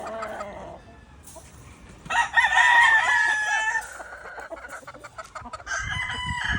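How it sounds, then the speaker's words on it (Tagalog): Gilmore broodstag rooster crowing loudly and close, one long drawn-out crow with clucking and farmyard noise before and after it. "Ala Derek Ramsey po ang datingan ng ating Gilmore Broodstag na ito."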